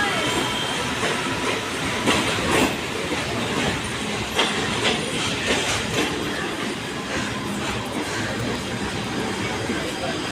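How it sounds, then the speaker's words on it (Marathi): A Mumbai suburban local train bound for Panvel rumbles close by with a loud, continuous roar and rhythmic clacking of wheels over rail joints, steady for the whole stretch. "आता आपली ट्रेन आलेली आहे, लोकल ट्रेन"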